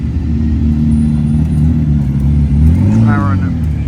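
A Gordon Murray T50 hypercar drives past in a hypercar convoy at Goodwood, a loud engine drone that rises as it passes, with a voice talking over it.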